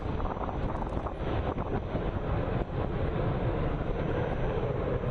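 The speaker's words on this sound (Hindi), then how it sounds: "आसमान में गरज धमक सब कुछ सुखोई की सुनाते हुए।" A Sukhoi Su-30 MKI twin-engine fighter jet over Assam gives a steady, loud roar throughout, a broad continuous rumble with wind buffeting on the microphone and no speech.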